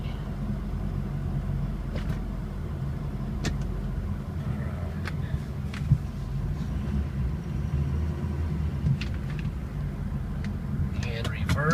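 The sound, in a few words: 2006 Ford F350 diesel truck engine running while moving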